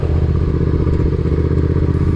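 A motorcycle engine runs steadily and loudly up close as the clutch is let out slowly with a little throttle, its dense low rumble holding even throughout without pauses.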